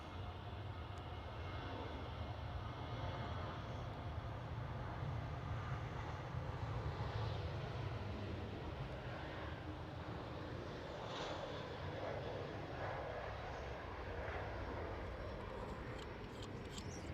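A KLM Boeing 737 jet at Amsterdam Schiphol gives off a steady, distant engine rumble with a low drone and faint whine, continuous and fairly quiet throughout.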